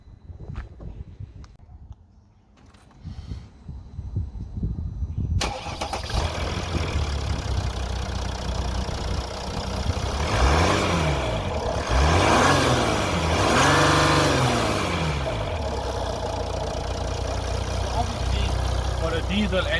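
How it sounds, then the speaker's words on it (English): A Mercedes W212 E350 diesel cranks over and catches after a few quiet seconds, then settles into a steady idle with several rising and falling revs, loud and close throughout. "Now let me start it up and show you what it sounds like."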